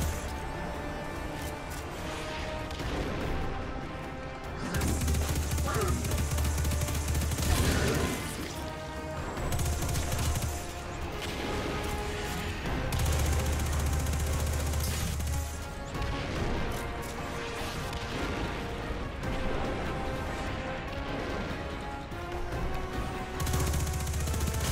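Combat in the Destiny 2 beta shooter game: dense, loud crashing impacts and rapid mechanical clatter over a steady game soundtrack, with recurring heavy low bursts and sharp hits throughout.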